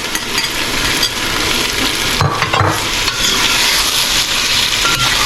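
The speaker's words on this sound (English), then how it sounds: "And then we will add in the potatoes that we fried off earlier." Fried potatoes added to a sizzling pan for Bengali muri ghonto, a loud continuous frying hiss with a few clattering thumps and spoon scrapes as they go in and are stirred, close up.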